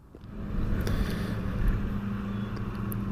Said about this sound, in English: I've just been joined by the dustbin men behind me, so apologies for any noise.